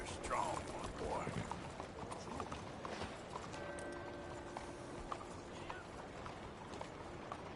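Horse hooves in Red Dead Redemption 2 clip-clop at a steady walking pace on hard ground, with a few scattered clicks and faint background noise.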